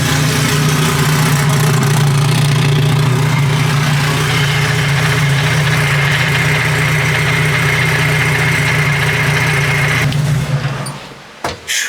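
An SRT4-engined Caravan idles through a heat cycle with a loud, steady, low rumble and a constant hum, cutting off abruptly near the end.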